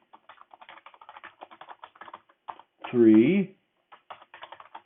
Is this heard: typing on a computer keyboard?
yes